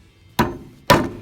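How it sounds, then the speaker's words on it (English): Two sharp hammer blows drive a nail into the side of a wooden birdhouse, each a crisp, close thwack about half a second apart with a short woody ring after it. "put it through the side of the birdhouse, and then you are going to hammer it in there"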